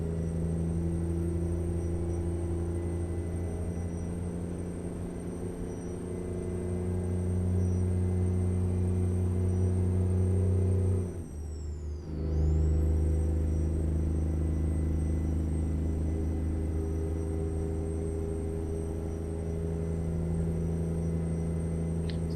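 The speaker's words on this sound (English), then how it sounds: "I don't remember the exhaust being this loud or the Jake brake being that loud" A Freightliner Argosy truck engine in the video game American Truck Simulator drones with a deep, steady exhaust rumble, briefly cutting out midway before resuming, a constant high whine running above it.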